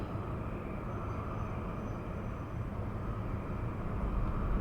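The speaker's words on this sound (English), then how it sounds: "we get the Alaska flight taxiing" An Alaska Airlines airliner taxis at San Diego airport, a steady broadband jet engine rumble with low roar that holds at a constant moderate level throughout, with no voices.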